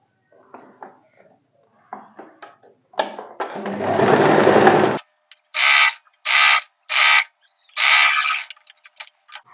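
A sewing machine stitches a katori blouse from the bottom upward. Soft handling and fabric rustles lead into a steady whirring run, then several short, evenly spaced bursts of rapid mechanical stitching, close and clear.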